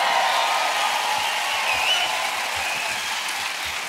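A church audience at a preaching session claps steadily for several seconds, a dense wash of applause that stays even in loudness throughout without any voices.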